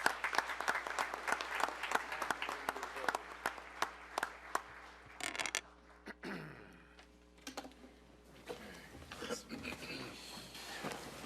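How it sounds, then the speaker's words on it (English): Applause for the Mayor Commissioner at a city commission meeting, sharp scattered claps from a modest room crowd that thin out, followed by quieter room noise and a voice. "Will y'all give the Mayor Commissioner a round of applause?"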